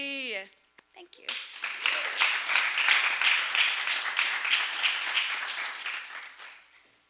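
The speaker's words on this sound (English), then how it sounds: "Let's have another round of applause for Cantor Greenberg" Loud, sustained audience applause fills a county freeholder meeting hall, rising after a brief sung phrase and holding steady for several seconds before fading out.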